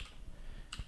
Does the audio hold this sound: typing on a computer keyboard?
yes